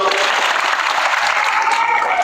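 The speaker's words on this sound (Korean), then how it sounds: "큰 박수 부탁드리겠습니다" Steady applause from a crowd at a high school taekwondo sparring final, loud and continuous throughout, with an announcer's voice faintly over it.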